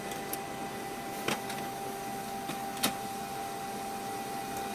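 An HP Color LaserJet Pro M254DW draws a page back inside for duplex printing, giving a steady mechanical hum with a few faint ticks and clicks, close up and without voices.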